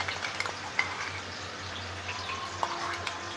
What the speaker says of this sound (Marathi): चांगलं परतून घ्यायचं आपण तेलामध्ये.